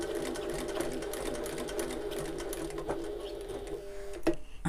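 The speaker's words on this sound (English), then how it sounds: "Now on this, I do want to back stitch, because I want to be sure that that is nice and secure." Close and steady, a sewing machine back stitches a seam on a Half-pint Hobo bag, its rapid mechanical chatter continuous for several seconds and ending in a few sharp clunks.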